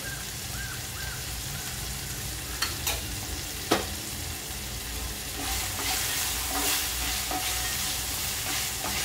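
Potato frying in a pan with salt, sugar and crushed peanuts: a steady, moderate sizzle runs throughout, with a few sharp utensil clinks and light stirring scrapes, no voices.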